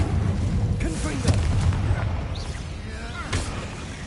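A Confringo blasting spell goes off in Hogwarts Legacy: a booming explosive burst, then a couple of lighter blasts, all under steady low game rumble and ambience.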